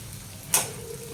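Bitter gourd pieces frying in hot oil give a soft, steady sizzle, with one brief, sharper crackling burst partway through. No voices.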